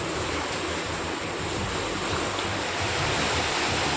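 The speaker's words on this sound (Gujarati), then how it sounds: "ખતરાના નિશાનથી ઉપર વહી રહેલી અલકનંદા અને મંદાકિનીના પાણી ઘરો અને ઘાટમાં ઘૂસી ગયા" Floodwaters of the swollen Alaknanda and Mandakini rivers rushing after a cloudburst, a steady, dense roar of churning water filling the whole clip without pause, loud and continuous.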